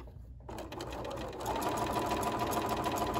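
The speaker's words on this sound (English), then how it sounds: "So what I'm gonna do is chain piece a bunch of these gingham and solid tablecloth squares. I'm just gonna run them through" A sewing machine chain piecing gingham and solid tablecloth squares for a quilt panel, its needle running in a fast, even, continuous whir that starts after a brief pause and grows louder, close by with no talk.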